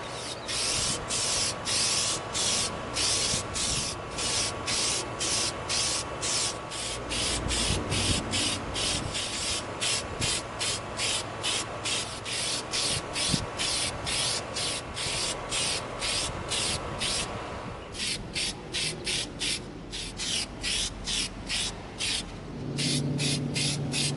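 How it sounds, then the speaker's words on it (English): An aerosol can spraying Plastidip coating onto an EVA foam prop blaster outdoors, in rapid, repeated hissing bursts, close and fairly loud, with a few brief pauses between runs. "We're going to begin coating Rocket Raccoon's blaster with our Plastidip"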